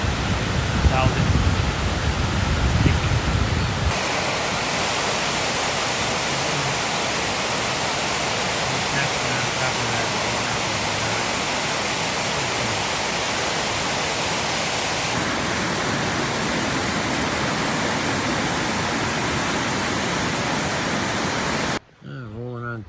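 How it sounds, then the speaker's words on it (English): Heavy water rushes over a campground spillway at Douthat after a night of rain, a loud, dense roar that stays steady and close throughout before cutting off abruptly at the end. "Quite a lot of water coming down."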